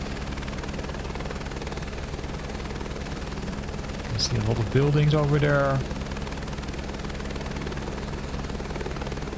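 An H125 helicopter flying over Istanbul in Microsoft Flight Simulator 2024, a steady turbine and rotor drone running throughout under a man's speech, with a brief louder tonal swell midway.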